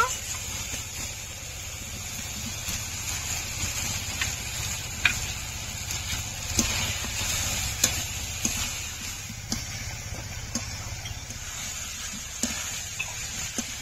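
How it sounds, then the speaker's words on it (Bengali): Fried potato and cauliflower pieces sizzling in spice masala in a pan, a soft continuous hiss punctuated by light ticks and scrapes of stirring, fairly quiet with a faint voice in the background. "এখন ভেজে রাখা আলু ও ফুলকপি দিয়ে দেব"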